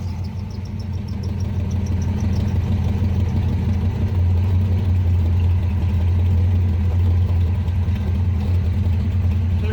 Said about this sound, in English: The automatic engine shut off.